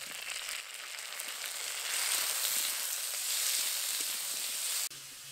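Potatoes fry and are stirred in a pan, giving a steady, close, loud sizzle that grows fuller partway through and then cuts off abruptly near the end. No one talks.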